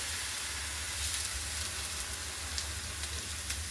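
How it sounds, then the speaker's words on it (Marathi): A steady, loud hiss of a flatbread of sorghum flour and fenugreek leaves sizzling on a hot oiled griddle, continuous and even throughout, with no voices. "आता या पद्धतीने असं उचलून तव्यावर सोडायचं"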